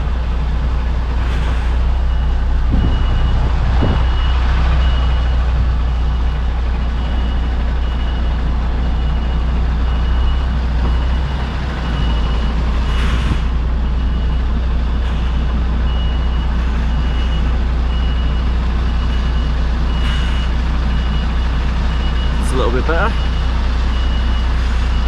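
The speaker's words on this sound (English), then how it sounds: "I'm just being a little bit extra cautious there as well because I've got the truck next to me. I don't want to reverse into his cab." A heavy delivery truck reverses alongside another parked truck, its steady, evenly spaced reversing beeps repeating throughout over a loud, constant diesel engine rumble and cab noise.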